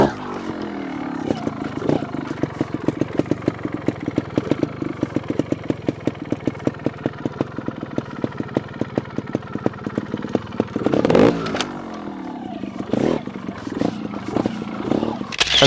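A Sherco SHT 300 trials motorcycle engine, 2022 factory model, ticking over in a fast steady pulse that swells into a louder rev burst as the bike climbs a large V-shaped set of rocks, with talk over it.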